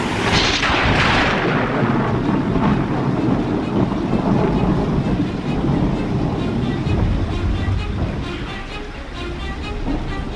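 Thunder from a storm rumbles in a long, heavy roll, loud and deep, with a crackling burst at the start and a slowly fading growl under steady rain or wind noise.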